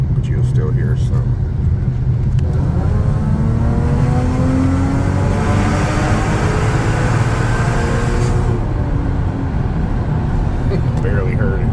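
An Audi A6 3.0T with a 034Motorsport Stage2+ tune pulls through a tunnel, its engine droning and rising steadily as heard from inside the car with the windows up, a continuous loud rumble throughout.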